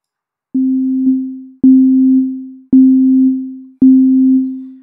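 A Bitwig 4.1 synthesizer plays four sustained, pure-toned notes in an even rhythm, each with a sharp attack and gradual fade, alone and clean.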